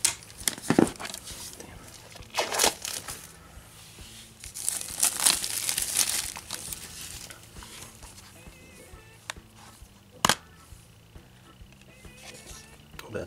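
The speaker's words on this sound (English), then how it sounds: "Let's cut the plastic a bit more off here." Thick plastic wrap being cut and peeled off a Blu-ray case, close crinkling and tearing with a few sharp snaps and rustles spread across the stretch, no voices.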